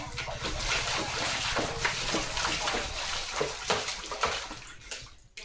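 Steady splashing and trickling water with irregular slaps and dribbles, close by, as a small child plays in it.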